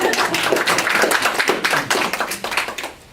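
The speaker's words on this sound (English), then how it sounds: "Are we clapping at the right time?" Audience clapping at an opera presentation, a dense, loud patter of hands in rhythmic bursts that thins and fades toward the end.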